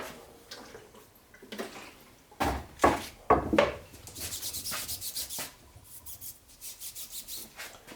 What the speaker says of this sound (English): Take a little bit of acetone, and I'm going to clean the splines up a little bit.